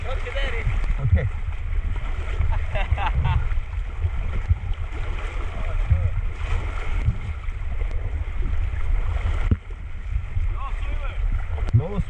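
Kayak paddling on a Clearwater trip, with soft splashes and water swishes close by, mixed with wind buffeting the microphone and people talking throughout.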